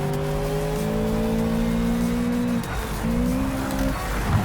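A race car in Project Cars 3 holds a high, steady engine whine that climbs and drops as it shifts through the gears, with a brief dip and the pitch rising again, loud and close with faint tyre noise beneath.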